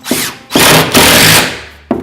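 A power drill drives screws through a cabinet box into a sheetrock wall during installation, with two loud sustained bursts of whirring and grinding, the first brief and the second longer, then a short final burst.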